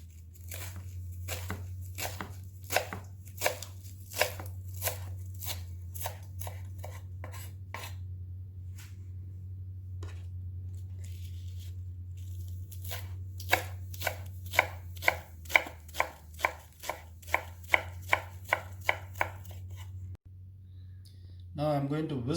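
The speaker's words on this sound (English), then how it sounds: "So now I'm going to chop up the spinach." Spinach being chopped with a knife on a board for an omelette: a run of crisp, evenly spaced chops, close up over a low steady hum, pausing midway and then quickening near the end.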